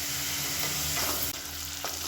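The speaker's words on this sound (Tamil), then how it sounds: "புதினா மல்லி எல்லாம் ஓரளவுக்கு வதங்கிடுச்சு" Mint, coriander and green chillies fried with spices in hot oil, a steady close sizzle with brief stirring scrapes of a spoon in the pan.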